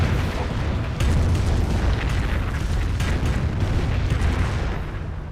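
Calliope rocket barrages slam into German Grenadier infantry in a Company of Heroes battle, a dense rolling rumble of overlapping explosions and bursts that keeps up throughout without letting off.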